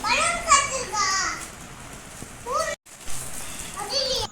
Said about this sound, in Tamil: பாதி முடிக்கும் போதே பார்த்திங்களா மழை காற்று ஸ்டார்ட் ஆகுது